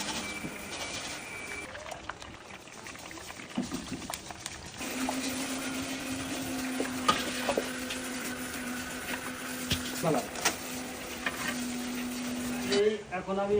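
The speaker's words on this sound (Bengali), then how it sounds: "একে একে চানাচুরের পাশাপাশি বাদাম এবং চিড়াগুলোও কিন্তু ভেজে নেওয়া হচ্ছে এই উত্তপ্ত" Chanachur, peanuts and flattened rice frying in a hot pan, with a steady sizzle and stirring scrapes and clinks throughout, growing busier toward the end.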